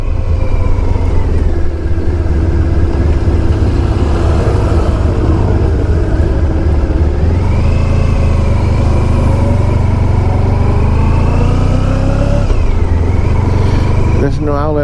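A 1994 Honda ST1100 touring motorcycle rides around a quiet dead-end block, its engine a continuous close rumble with rising and falling revs as it shifts, while someone talks over the noise.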